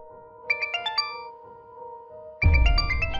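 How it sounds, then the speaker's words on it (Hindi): A phone ringtone plays a bright, bell-like melodic jingle of repeated chiming notes, then restarts louder over a fuller backing as the unanswered call keeps ringing, with no voices. "जूही मेरा फोन क्यों नहीं उठा रही है?"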